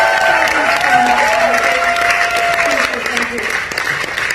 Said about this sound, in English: Come on, everybody. Let's give a round of applause.